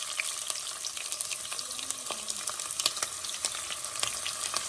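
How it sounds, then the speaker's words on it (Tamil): Sliced onions fry and sauté in a pan for chana pulav, a steady sizzle broken by crackles and the scrape of stirring, with no talking. "ஆனியன் வந்து ரொம்ப ப்ரௌன் ஆக வேண்டாம், பட் ஆனால் நல்லா வதங்கணும்."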